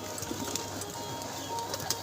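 Pigeons at a pigeon club coo softly and repeatedly amid a dense, hissy background with a low hum, the calls close by but faint and overlapping.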